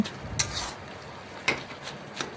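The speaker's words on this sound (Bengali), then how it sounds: "এই দেখুন, এইভাবে নাড়াচাড়া করে মিশিয়ে নিচ্ছি।" Spatula stirring and mixing pumpkin stem greens with ridge gourd and potato in a pan: a few soft, spaced scraping strokes, close by and fairly quiet.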